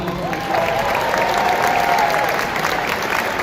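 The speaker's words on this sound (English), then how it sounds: "Will you please join me in giving our legislators a round of applause?" Convention crowd at the Utah State GOP Convention gives the legislators a round of applause, a steady roar of clapping with a few cheers, continuous and fairly loud.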